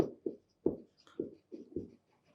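Steady strokes of a pen or chalk writing out an equation by hand, about six short scratchy taps in an uneven rhythm, close and moderately loud, with no talking.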